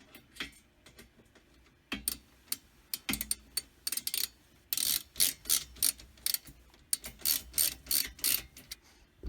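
Bolts with nylon locking nuts being snugged down on a 5th Gen Toyota 4Runner modular storage panel, giving clusters of close, sharp metallic ticks and ratcheting clicks in quick irregular bursts separated by short pauses.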